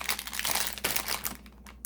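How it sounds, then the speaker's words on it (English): Papercraft packaging for Christmas crafting supplies crinkles and rustles close up in quick, uneven bursts of dry crackling, with no speech. "Sorry about the rustling."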